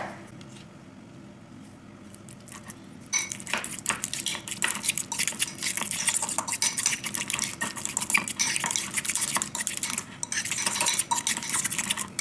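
Cutlery scrapes and stirs sour cream into a bowl of guacamole paste, a busy run of close clinks and scraping that starts after a few seconds of quiet and continues steadily to the end.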